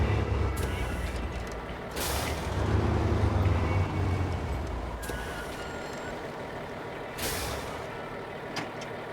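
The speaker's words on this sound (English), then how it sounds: "we're gonna awkwardly get this truck into position." A truck backs into position in the off-road driving game SnowRunner at the Smithville Dam in Michigan, with a low engine rumble, periodic reversing beeps and sharp air-brake hisses.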